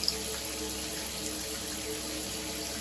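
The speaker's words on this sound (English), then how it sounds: "but it's still leaking through right there" Water trickling steadily from a leaking bathtub faucet during a tub faucet repair, a faint continuous wash of running water with no clear drips standing out.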